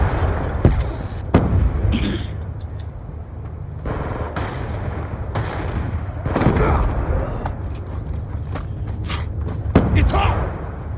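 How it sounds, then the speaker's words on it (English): Grenade blasts and gunfire in the Black Ops 2 shooter, with sharp bangs and bursts in a busy battle mix, rumbling under shouted voices and game chatter. "Grenade, grenade!"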